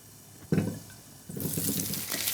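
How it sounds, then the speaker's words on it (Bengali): Potatoes seasoned with salt and turmeric frying in a pan, a sharp sizzle bursting in after a moment of quiet, dipping briefly, then a steady loud hiss and crackle building through the end. "এরপর একটু হলুদের গুঁড়ো দিয়ে আমি আলুটা একটু ভেজে নেব"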